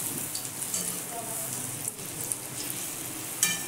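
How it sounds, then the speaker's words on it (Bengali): Palm fruit fritters (taler bora) fry in hot oil with a soft, steady bubbling sizzle and a few faint clinks, moderately quiet. "এখন আমি তালের বড়া ভাজি।"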